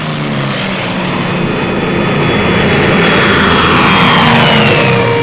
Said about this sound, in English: And you fly that F-5 on mission after mission.